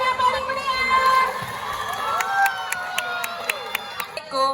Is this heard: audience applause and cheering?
yes